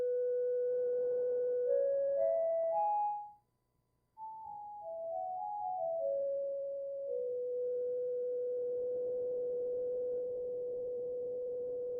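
A pure sine-wave tone from a synthesizer oscillator, held steady and then stepping upward in pitch glides, cutting out briefly before sliding back down to a long sustained note, loud and clean with no talking.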